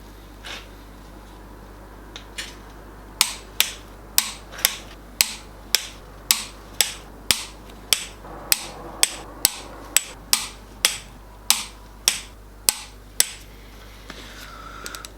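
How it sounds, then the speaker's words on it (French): A ratchet torque wrench tightens the cylinder head bolts on a Cupra engine at 60 Nm, making a long, even series of sharp ratcheting clicks about every half second, close and with no talking. "pour le serrage avec la clé dynamométrique c'est terminé"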